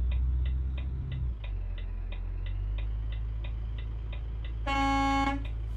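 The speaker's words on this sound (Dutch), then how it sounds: "de toeter doet het ook" A Volvo FH16 8x4 truck in Euro Truck Simulator 2 gives one short, bright horn blast near the end, heard over a steady ticking turn indicator and a low engine drone.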